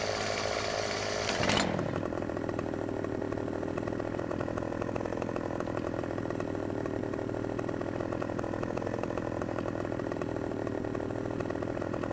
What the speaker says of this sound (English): I like the way the Husqvarna sounds better than the McCullough.